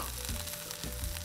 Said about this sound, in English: Oh, the sizzle, the smell is just out of control here.